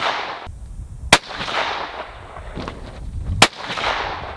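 A rifle fitted with an EC Tuner muzzle brake fires two sharp, loud shots about two seconds apart. Each crack leaves a brief rumbling echo.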